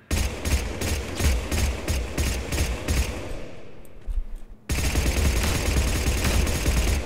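Blood Pack Punisher gunfire in Mass Effect 3 Firefight: rapid, loud automatic bursts of shots, a brief lull with fading echoes, then another sustained stream of fire.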